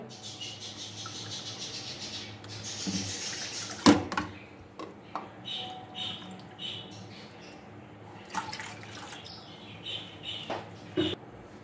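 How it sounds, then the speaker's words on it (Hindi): Two cups of water poured into a cooking pot to start sugar syrup for gulab jamun, with splashing and clinking of the pot and utensils at intervals, close by in a kitchen. "2 कप हम पानी डालेंगे पहले।"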